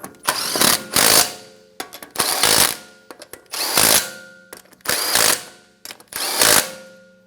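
A power tool snugs down the wheel lug nuts on a 2013-2017 Honda Accord in five separate loud, close bursts of whirring and rattling, each about half a second to a second long, with short gaps between them.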